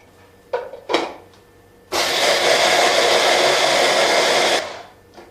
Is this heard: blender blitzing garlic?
yes